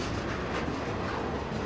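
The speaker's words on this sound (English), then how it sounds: "you could say that this train is made up of locomotives, boxcars, and tank cars" A freight train of locomotives, boxcars and tank cars rolls past, producing a dense, steady roar of wheels and rumbling cars at close range, loud and unbroken.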